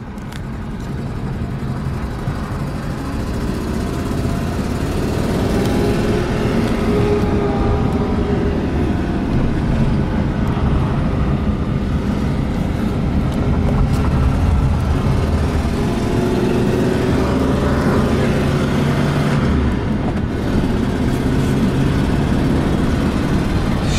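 A 1951 Ford Custom cruises down the road at about 35 mph, with a steady rumble of engine and road noise heard from inside the car throughout.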